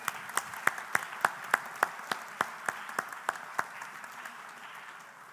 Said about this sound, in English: Let's hear your big and warm applause for the nominees and the winner of QA of the Year Award.